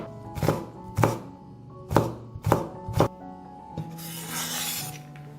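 Five sharp knife chops cut through long beans on a cutting board, irregularly spaced and close, followed by a softer scraping sweep of the knife gathering the pieces; no voices.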